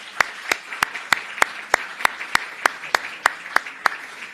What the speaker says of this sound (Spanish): Pido para ellos un fuerte aplauso